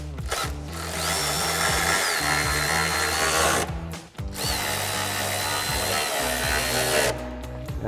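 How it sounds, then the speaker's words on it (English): Power ratchet or drill-like whine tightening pinch weld bolts with a 10mm socket while installing RedRock side step bars on a Jeep Wrangler JL, two long loud bursts of motor whir with a brief pause between. "We'll grab our 10mm socket and wrench, tighten down our pinch weld bolts."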